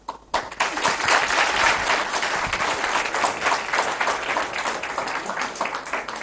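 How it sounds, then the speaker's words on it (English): Sustained audience applause at a caretaker prime minister's address ceremony, dense steady clapping from a large crowd that starts abruptly and continues loud throughout, with no speech over it. "Once we are done with the clapping part"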